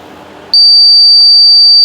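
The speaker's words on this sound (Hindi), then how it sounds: "बजर बजना शुरू हो गया है" A buzzer on a distance-sensor alert device sounds once an object comes closer than 10 centimetres, a loud, steady, piercing electronic tone that switches on abruptly after a quiet moment and holds continuously.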